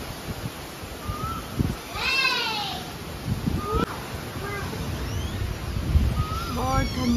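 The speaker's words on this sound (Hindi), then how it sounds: "बहुत ठंडी ठंडी हवा चल रही है।" Cold wind blows outdoors in a continuous, rough rushing noise that buffets the microphone, with a cat meowing several times over it.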